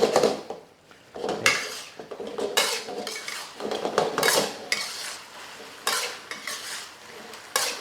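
A utensil stirs tofu in a pan while the sauce is thickened with starch, giving repeated scraping and clinking against the metal over a soft sizzle, with no voices.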